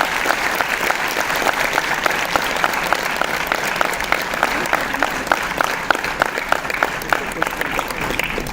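A conference audience gives a long, steady round of applause, with many hands clapping in a dense, even wash that holds at a constant level throughout.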